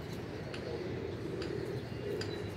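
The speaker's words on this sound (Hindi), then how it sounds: "आज कबूतर हम बाहर निकाल कर ये ऊपर बिठा दिए हैं" Pigeons sitting on a rooftop give a few soft, faint coos and flutters against a low, steady outdoor background hum, with no talk.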